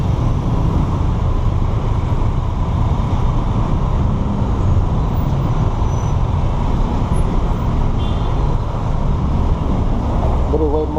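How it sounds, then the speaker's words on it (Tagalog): Heavy road traffic in Cubao heard from a motorcycle, a constant loud roar of engines and wind rumble with no break, and a voice talking over it. "grabe traffic dito"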